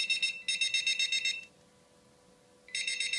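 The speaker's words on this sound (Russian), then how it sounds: "После короткой паузы сигнализация снова заработает." Enuflex bedwetting alarm sounding again after a reset: a loud, shrill electronic beeping in rapid pulses that stops for about a second and then starts again, close up, with no talking.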